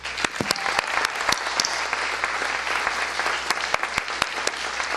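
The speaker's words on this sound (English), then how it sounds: "I would like to have a round of applause for Larry Stickler." An audience applauds at a general faculty meeting with a sustained wash of many hands clapping, sharp individual claps poking out at an even, moderate level throughout.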